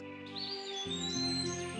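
Cartoon birds chirp and tweet in a Snow White fairy-tale animation, a steady flurry of high, sliding calls under soft background music, with no speech.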